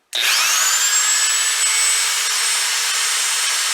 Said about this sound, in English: Let's put it on the hammer function.